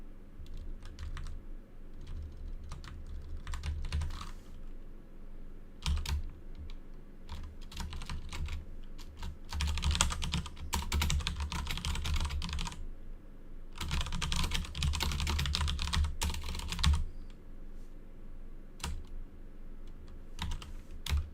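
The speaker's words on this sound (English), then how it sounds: "I'm just typing some helper stuff there" Someone types on a computer keyboard during a game development live stream, bursts of close, rapid key clicks separated by short pauses, with no talking.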